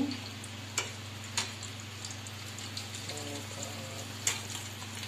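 Steady sizzle of chicken deep frying in hot oil with a constant low hum, broken by a few sharp crackles and pops; no voices.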